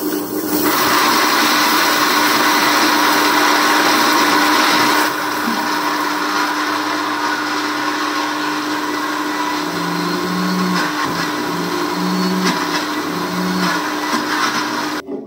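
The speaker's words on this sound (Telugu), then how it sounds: "మసాలా రెడీ చేయడానికి కావాల్సిన ఇంగ్రీడియంట్స్ అన్నీ వేసేసుకున్నాం కదా, ఇంకెందుకు లేట్, మిక్సీ చేసేద్దామా" A kitchen mixer grinder whirs loudly as it grinds masala ingredients, a steady motor roar that drops slightly in pitch partway through and keeps running with a rough, churning edge to the end.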